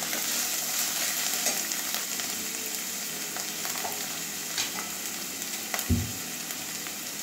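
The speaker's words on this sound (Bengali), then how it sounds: "পেঁয়াজটা অনেকটাই ভাজা হয়ে গেছে, কাঁচা গন্ধ চলে গেছে পেঁয়াজের" Onion and green chilli frying in oil in a pan, a steady close sizzle with occasional soft stirring knocks and one brief thump near the end.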